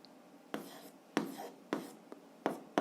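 Pen writing an equation on paper, a series of short, close scratchy strokes in quick bursts, fairly faint, with no talk.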